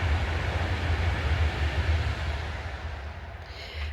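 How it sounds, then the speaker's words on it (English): A train rolls past near a campsite by the water, a steady low rumble and rushing noise that stays fairly loud for several seconds before easing slightly at the end. "Oh, wait for that train to go by."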